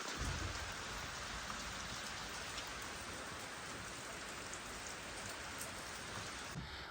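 Rain falls steadily in a village in Arunachal Pradesh, a soft, even hiss of drops that continues unbroken throughout, fairly faint and with no voices.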